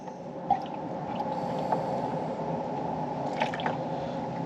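Watery fluid from a Subaru EJ25 engine with a blown head gasket draining into a pan, a steady close trickle and pour with a few faint drips and clinks, with no talk.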